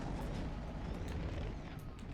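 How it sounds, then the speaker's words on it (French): Explosions and booming blasts in a video game, a dense rumbling low roar with scattered bursts running continuously through the clip at fairly steady loudness. "Il y a déjà des explosions."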